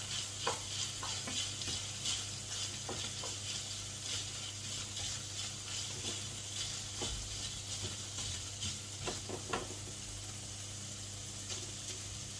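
Beef mince with pepper, carrot and garlic sizzles softly in a pan while it is stirred. A steady low fry runs under scattered clinks and scrapes of the utensil, quiet and close, with no talking.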